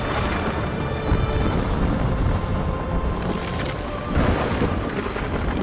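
Thunderstorm in Horizon Forbidden West: a dense, steady roar of wind and rain with low rumbling thunder throughout, loud and continuous, no voices.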